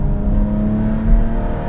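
Porsche 911 build styled as a GT3 imposter, engine held around 3,000 RPM: a steady, close, droning engine hum with a firm low tone and no talk over it.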